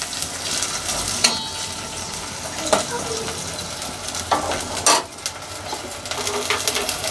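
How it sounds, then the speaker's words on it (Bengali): Water is poured into fried onion and garlic in a pan for a lentil and cauliflower curry, raising a steady loud sizzle with occasional scraping clinks of a stirring spoon throughout. "পেঁয়াজ রসুন ভাজা হয়ে গেছে। এখন আমি এর মধ্যে কষানোর জন্য পানি দিয়ে দিব।"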